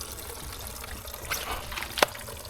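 Water flushes through the gate valve of a Dynasty spa, near its wet motor, as a low, steady trickling rush with a brief sharp splash or knock near the end.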